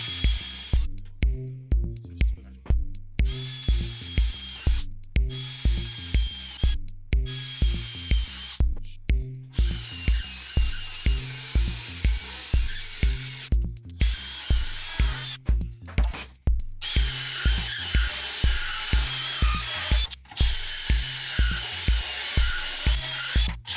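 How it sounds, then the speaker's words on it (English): A hole saw cuts into steel trunking while a commercial consumer unit is built, giving a loud, steady, rhythmic grinding chatter that pulses about twice a second for the whole stretch, with no voices. "sometimes these are quite weak and you can't start drilling on them"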